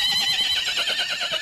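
A horse pulling a large carriage, wearing metal armor, gives a sustained, wavering neigh, loud and close throughout.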